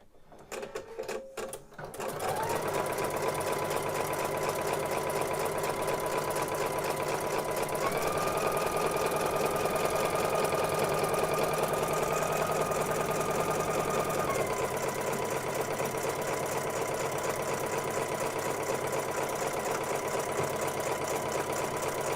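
A computerized embroidery machine stitches out a crazy quilt block, a steady loud mechanical whirring hum with rapid needle chatter that shifts pitch partway through, running alone without speech after a brief startup.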